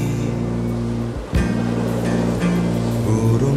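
Sea waves washing onto a beach, a steady roaring surf with one brief dip and swell partway through, heard close and loud with no talking.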